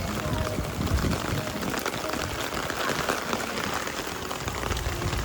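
Steady rain pouring down on a weekend in Japan, a dense hiss of drops spattering surfaces nearby, continuous and even throughout with no voices.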